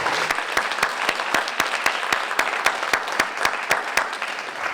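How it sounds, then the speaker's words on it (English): Audience applause at a staff recognition ceremony, a steady patter of many hands with some louder individual claps standing out, no talk over it. "We have one more round of applause for our new Hall of Famer."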